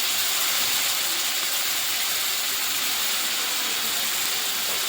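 Grated onion fries in hot oil for a potato dish, giving a steady, loud, close sizzling hiss that holds evenly throughout with no pauses.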